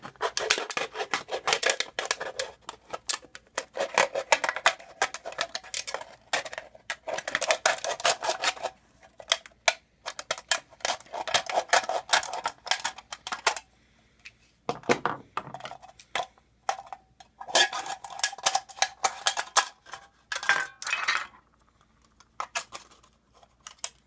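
Metal tin can being cut and filed for a homemade survival cook stove: dense, rapid snipping and rasping scrapes in close bursts, with brief pauses, continuing for most of the stretch.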